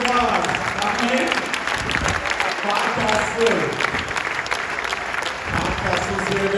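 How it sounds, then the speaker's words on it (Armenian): An audience at a children's celebration bursts into sustained applause, a steady roar of many hands clapping with some crowd voices mixed in throughout. "բոլոր ծափերը ձեզ"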